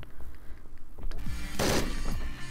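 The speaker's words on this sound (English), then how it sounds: "I think these gunshots are a little too loud." Gunfire from the video game Hotline Miami 2: a few sharp shots early, then a loud, dense burst of overlapping shots in the middle, with scattered clatter and impacts around it.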